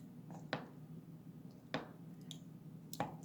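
Sourdough starter of flour and water being stirred by hand, giving a few soft, wet squelching strokes spaced about a second apart, faint and close against a quiet background.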